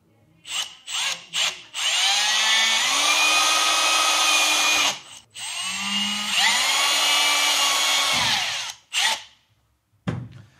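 A power drill whines loudly in two long bursts, drilling during fitting of a luggage rack and crash bar to a Lambretta G 350 scooter, with short spurts before and after and brief pauses in between, close to the microphone.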